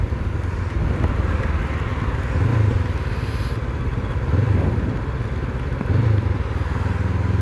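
A sports motorcycle rides along in third gear on a barely open throttle, its engine giving a steady close low drone that swells gently every couple of seconds, with no one talking.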